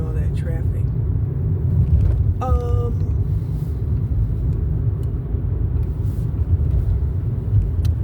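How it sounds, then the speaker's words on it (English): Steady low road rumble and tyre noise from inside a moving car, continuous throughout with occasional brief higher tones, while people talk over it. "We're not going to go up here in all that traffic."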